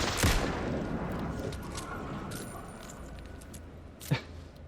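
Gunfire in the Alan Wake II video game: a sharp, loud shot at the start and another short crack near the end, separated by a dense rumbling, noisy ambience.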